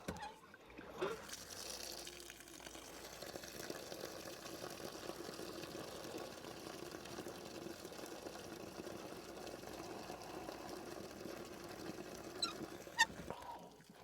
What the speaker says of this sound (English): my outdoor faucet water is running pink